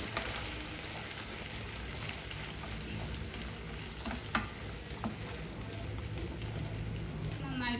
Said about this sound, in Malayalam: ഇനി ഇതിലേക്ക് മുട്ട ഇട്ട് കൊടുക്കാം എന്നിട്ട് ഇതൊന്ന് നന്നായിട്ടൊന്ന് മിക്സ് ചെയ്യാം